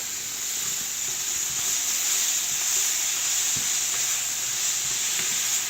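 Vegetables and red pepper sautéing in a pan for a cheese steak, giving a steady, close sizzle with occasional stirring scrapes throughout and no talking.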